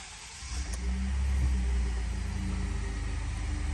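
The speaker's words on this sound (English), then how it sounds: "let's go ahead and start this vehicle up for y'all." A 2019 Ford F-150 XLT pickup with just over 59,000 miles starts up: a short crank about half a second in, then a steady, close, low idle rumble that holds to the end with no talking.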